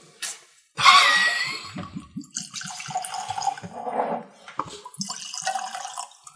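Dewar's Caribbean rum cask finish scotch being poured generously into a glass, a close glugging liquid splash that starts abruptly and trails off in uneven gurgles and drips.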